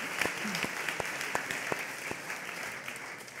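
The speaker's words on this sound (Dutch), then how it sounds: "Een applaus" A talk show audience applauds, a steady clapping from a modest crowd at moderate distance, with a few sharp, distinct claps standing out over the general patter.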